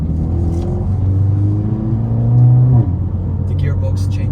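A Mercedes-AMG A45 S four-cylinder engine hums steadily under acceleration, the tone rising and then dropping at a smooth gear change, with someone talking over it inside the cabin.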